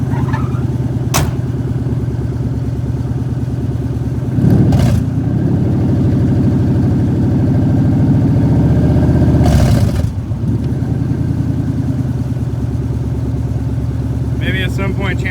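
A car idles close by with a steady low mechanical drone that lasts throughout, broken by a few sharp clicks and clunks near the start and middle, with no speech over it.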